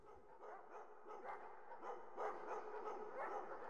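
A pack of hunting dogs barks and yips in a repeated, overlapping chorus at moderate distance, the bursts continuing steadily with no talk over them.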